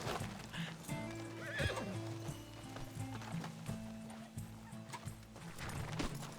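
In Red Dead Redemption 2, a horse neighs in loud whinnies while hooves clip-clop at an uneven pace nearby, with some fowl-like gobbling mixed faintly into the outdoor scene.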